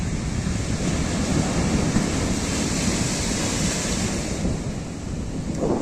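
Rough sea surf surging over the shore during a Kalbaishakhi storm at high tide, with a loud continuous roar and wind buffeting the microphone throughout. No talk.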